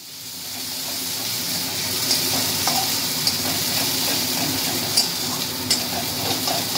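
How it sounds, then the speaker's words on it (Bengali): Garlic, nigella seeds, green chili, salt and ground khārkol leaves being stirred in a hot pan, a loud close hissing sizzle with occasional spatula scrapes and clicks. "এর মধ্যে রসুন, কালো জিরে, কাঁচা লঙ্কা, নুন আর পাতাটা পুরোটা দিয়ে আমার নেড়ে চেড়ে নেব"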